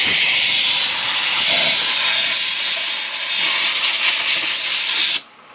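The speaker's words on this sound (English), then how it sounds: "Blow it down with some air, dry it off." Compressed air hisses steadily and loudly as it blows down the bleeder screw and hose fitting on a 2011 Toyota Sienna brake caliper, a close, continuous rush that cuts off abruptly near the end.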